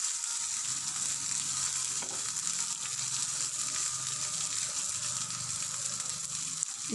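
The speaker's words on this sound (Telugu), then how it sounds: "ఇప్పుడు ఇది వేగుతూ ఉన్నప్పుడే అల్లం వెల్లుల్లి పేస్ట్ 1 స్పూన్ వేసేస్తున్నాను. చూడండి, ఇవి కొంచెం వేగుతుంటాయి." A spoonful of ginger garlic paste frying in hot oil for gongura chicken makes a continuous, even hiss and sizzle that holds steady throughout, with a faint clink or two and no voices.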